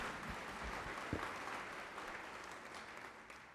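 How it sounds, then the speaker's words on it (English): An audience claps steadily at an awards event honoring people over 70, a dense continuous wash of applause that stays fairly even and slowly fades over a few seconds, with no voices on top. "Let's give her a round of applause."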